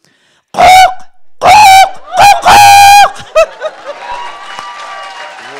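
A person imitates a raven with a series of loud, harsh croaking calls in separate bursts during an animal-call contest, followed by a quieter trailing croak and faint background noise.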